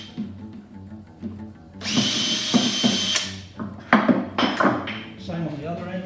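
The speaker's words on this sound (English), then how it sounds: "Now I'm going to drill one a few inches in from the end" A power drill whines into wood for about a second and a half while building a sawhorse, followed by clattering knocks and handling noises.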